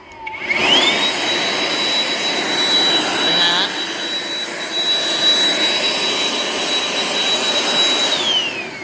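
A TANZU cordless leaf blower runs at power level 6, a loud, steady high-pitched whine and rushing airflow that spins up within the first second, holds constant, then winds down at the end, with no voices over it.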